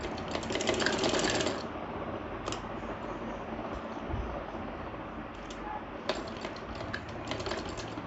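A domestic sewing machine stitches the cuff of a ladies' kurti sleeve, running in steady rapid bursts of needle clatter with short pauses between runs, close and alone.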